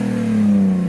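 A BMW E46 engine revs hard at a car show during a rev battle, one loud sustained rising roar, close and dominant.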